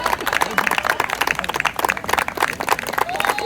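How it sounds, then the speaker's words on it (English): Applause and clapping from a Women's Day audience at an indoor event, dense and steady throughout, mixed with crowd noise and possible voices over it. "big round of applause"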